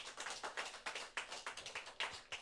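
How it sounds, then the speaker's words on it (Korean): A church congregation clapping together at a Sunday afternoon worship service, a fairly quiet run of distinct claps in a quick, steady rhythm. "하나님께 영광의 박수를 한번 더 올립시다"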